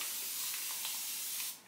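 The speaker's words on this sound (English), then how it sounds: "You guys know you do one push and it will continuously spray" A spray bottle gives one long, continuous hiss of water mist onto a deep curly wig, steady and close for well over a second before cutting off abruptly.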